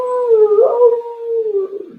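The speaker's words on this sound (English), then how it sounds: "Dog howling in pain, howling." A dog howls in pain: one long, loud, wavering howl, close by and alone, with the pitch sliding down and up before it breaks off.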